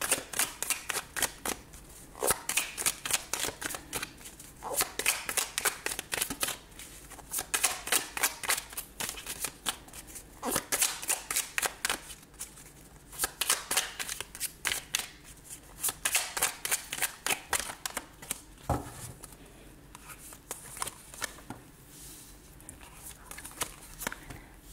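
Tarot cards for a nine-card spread are shuffled and drawn, producing dense, rapid riffling bursts that come in rhythmic waves with brief pauses between them, close and fairly quiet throughout.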